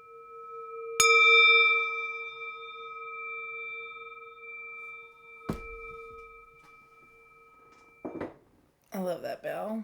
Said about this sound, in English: Let's do some bell dinging here for this new year.